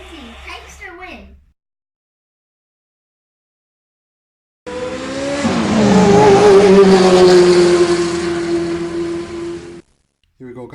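A Hot Wheels toy Jaguar XJ220 and an AMG race down a track, making a rising then fading whirring roll of about five seconds. A voice is heard briefly before it, with silence in between.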